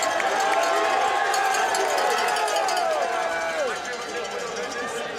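Dense, steady crowd noise at the Namur cyclocross World Cup, with cowbells clanging and people cheering while a commentator talks over it, the roar easing slightly toward the end.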